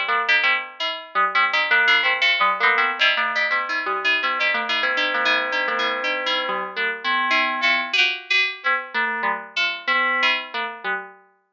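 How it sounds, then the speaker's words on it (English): An Arturia MicroFreak synthesizer using modal synthesis plays a bright bell tone in a quick run of struck, ringing notes with fast decays, loud and alone. "we've dialed in a really cool bell tone now"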